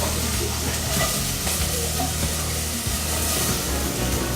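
Potatoes frying and caramelizing in a pan over low heat, a steady dense sizzle with faint scraping and stirring running throughout, close and continuous with no talking.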